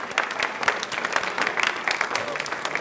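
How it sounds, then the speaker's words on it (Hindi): A studio audience on a Rajasthani quiz show claps in a brief burst of steady, fairly close applause with no voices over it. "तालियां प्लीज एक बार जोरदार होनी चाहिए।"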